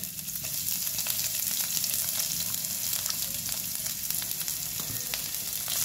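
Crushed ginger, garlic and chopped onion fry in a little oil, a steady close sizzle with light stirring and clicks of a utensil against the pan, no talking.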